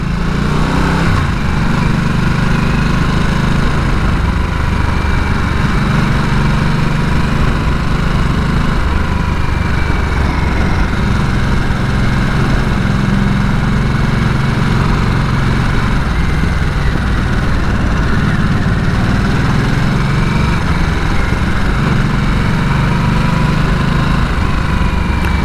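A 2022 Harley-Davidson Nightster 975 motorcycle engine runs steadily and loudly throughout, a continuous close drone with no pauses and no voices.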